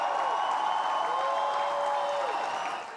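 A watching crowd at a strongman keg toss cheers and applauds in a dense, sustained roar with a sustained tone running through it, fading slightly at the end.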